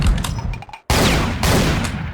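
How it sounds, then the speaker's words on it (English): Super shotgun in the DOOM Grabimod gameplay mod firing two loud, booming blasts about half a second apart, each with a long crashing tail, after some lighter clicks and movement. "Next, we have the super shotgun. You can shoot, individual shots, or you can shoot, both shots at once."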